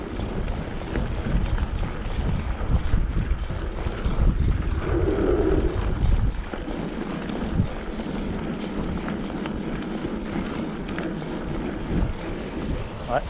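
Heavy wind buffets the microphone with low rumbling gusts while mountain biking along the coast near Arcachon, strongest in the first half, then settling into a steadier, softer roar.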